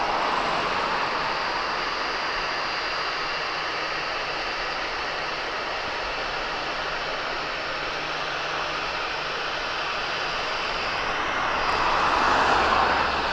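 A fixed-wing aircraft flies past at an airshow at East Midlands Airport, its engine a steady, broad roar that holds throughout and swells slightly louder near the end, with no talking.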